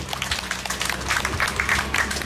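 An audience at a senior citizens' association protest rally gives sustained applause, a busy rustle of many clapping hands with low background noise, fairly loud and even.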